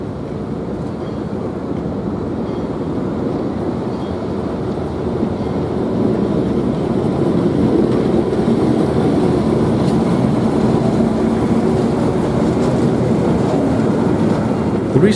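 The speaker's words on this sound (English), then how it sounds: "The train departs from Helsingør in two parts, and here the second half is seen behind GDS L1." The second half of a Danish passenger train departs Helsingør hauled by the GDS L1 locomotive, a loud continuous rumble of engine and rolling wheels that swells slightly as it moves off, with no talking over it.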